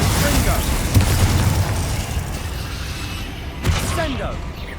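Confringo blasting spell explosions in Hogwarts Legacy, two distinct booms about three seconds apart over a continuous rumbling battle din, with whooshing spell effects in between.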